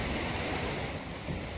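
Floodwater rushes over a bridge into town during a night flood in Chiplun, Konkan, a loud steady roar of flowing water with wind buffeting the microphone.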